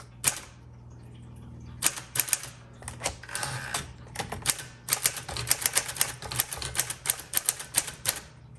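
Keys clack on a 1946 Sterling Speedline manual typewriter, starting with a few isolated strikes and some mechanical carriage noise, then building into a quick, close, steady run of keystrokes.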